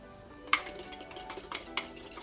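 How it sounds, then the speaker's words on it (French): A spoon clinks and scrapes inside a mug while mixing sweet mug cake batter with flour and jam, a quick run of light taps with two sharper knocks, close and fairly quiet. "Vas-y, tu peux mélanger."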